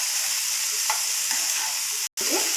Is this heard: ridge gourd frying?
yes